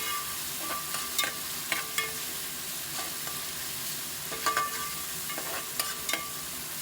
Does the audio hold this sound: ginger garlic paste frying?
yes